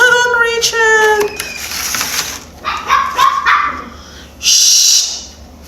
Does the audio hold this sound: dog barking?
yes